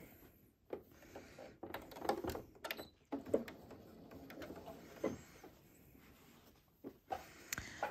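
Sewing machine running in short stitching bursts close to the piping cord on a fabric bag, nearby and fairly quiet, with pauses and handling noises between runs.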